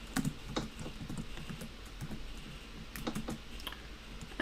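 Typing code on a computer keyboard, with rapid, irregular clicks in short bursts and brief pauses between them, close by and clear, with no voices.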